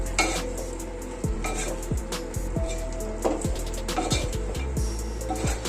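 Chicken curry stirred in a pan after pepper powder and garam masala go in, a spoon scraping in repeated strokes over a steady sizzle, close and alone.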